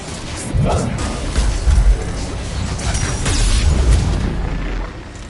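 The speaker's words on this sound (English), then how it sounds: "Missiles away." In a Mass Effect 3 battle, a salvo of missiles launches with heavy booming thuds and rumbling blasts, mixed with mechanical clatter, loud and sustained over several seconds as a voice speaks briefly.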